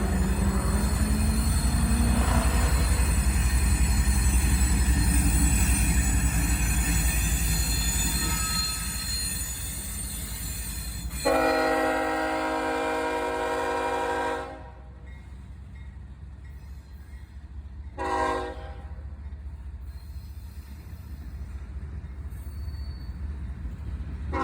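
Freight train L340 rounds a curve heading east, its railcars rumbling and wheels squealing loudly and steadily nearby, then a short horn blast sounds before the noise fades to a quieter background, with a second brief horn sounding later.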